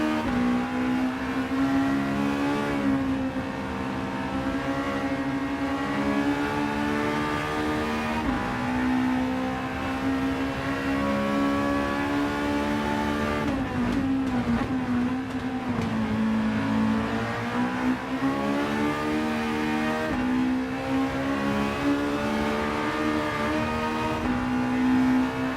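A revvy 1.6-litre four-cylinder front-wheel-drive car in Gran Turismo 7 drones continuously, its engine pitch climbing and dipping through gear changes, loud and close throughout with no talk.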